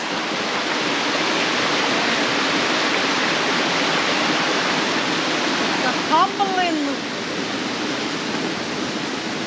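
A raging river tumbles over rocks in a loud, constant rush of broadband water noise, with a brief thin whistling sound near the end.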